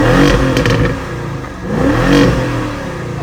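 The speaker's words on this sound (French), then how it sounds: "Le V8 il s'entend." A hot V8 car engine revs loudly and up close, its pitch rising and falling twice in a throaty sweep with a faint clattering edge.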